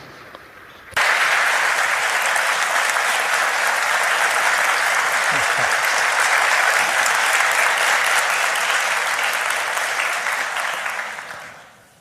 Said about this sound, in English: Please welcome the Minister with a big round of applause.